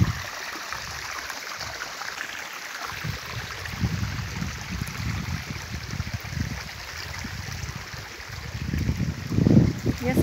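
A small stream runs near a waterfall, giving a continuous broadband rushing and trickling wash with some low churning swells. The water sound holds steady throughout, with no clear voices.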